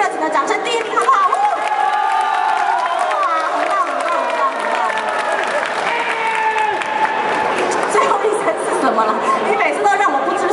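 A crowd at a bicycle-themed tyre-changing contest event claps and cheers loudly and continuously, with excited chatter and shouts mixed through the applause.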